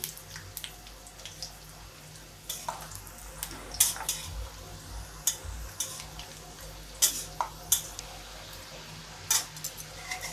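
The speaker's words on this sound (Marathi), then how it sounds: "थोडंसं तळून घेऊया शेंगदाणे" Peanuts frying in oil in a pan for a spiced rice dish, a soft steady sizzle with scattered clicks and scrapes of a spoon stirring, quiet and close, no voices.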